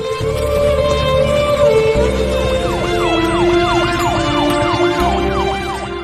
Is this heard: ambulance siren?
yes